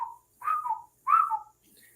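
A person whistles in imitation of a whistle heard from the woods at night beside a campfire, three short rising-and-falling whistled calls, fairly close and clear, with no talking.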